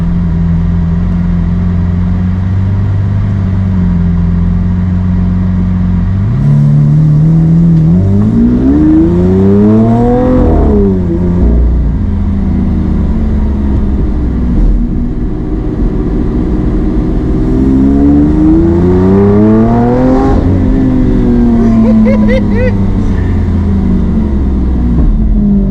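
A car engine revs hard in first gear, pitch sweeping up through the gear then dropping, twice over, loud and close from inside the cabin with no talk.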